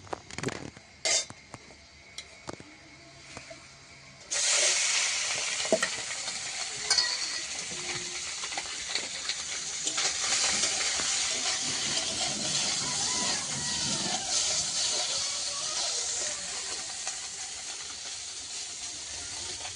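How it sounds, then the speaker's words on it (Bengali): Fish frying in a wok: after a few scattered clinks and knocks, a loud continuous sizzle and hiss of oil bursts in and holds steady close by, with no one speaking. "কড়াইটা মাছ ভাজা হতে দিলাম"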